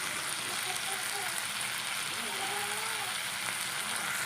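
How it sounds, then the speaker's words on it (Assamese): Fiddlehead fern greens fry in a pan with a constant hissing sizzle, an even wash of crackle that holds steady throughout, with faint voices underneath. "এনেকৈ মই অলপমান দেৰি ফ্ৰাই কৰি ল'ম"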